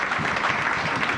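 A church congregation applauds for the Lord during a sermon, a dense, steady wash of many hands clapping at once with no break.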